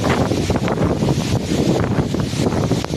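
A strong storm wind with blowing rain buffets the microphone outdoors, making a loud, dense, rumbling roar with gusty surges and no speech.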